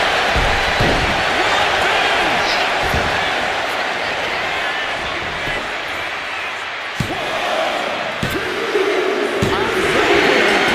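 Arena crowd noise from the wrestling game WWE 2K26 during a gauntlet match forms a steady roar throughout, with a few sharp impact thuds and louder swells of cheering near the end while a commentator talks over it.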